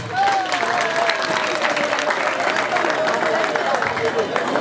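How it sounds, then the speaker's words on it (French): Guests at a customary wedding ceremony applauding the bride's parents, a continuous mass of clapping with crowd murmur and a voice speaking over it. "Est-ce qu'on peut applaudir pour eux?"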